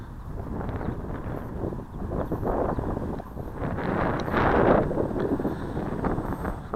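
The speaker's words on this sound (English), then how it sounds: "That wind's picked up a little bit as well." Steady wind buffeting a microphone outdoors at an RC model flying field, a continuous low rumbling roar that swells louder around the middle and carries on without a break.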